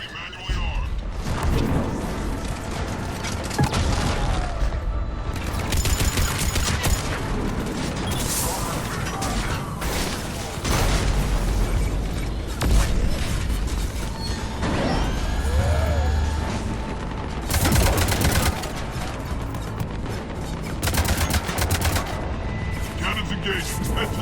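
Rapid bursts of heavy gunfire and booming blasts from a game, dense and continuous, with mechanical clanks and crashes mixed in throughout.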